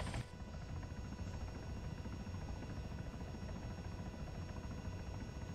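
A CH-67 Huron helicopter in the game ARMA 3 gives a loud, dense, continuous rotor and engine roar that holds steady throughout, with no voices over it.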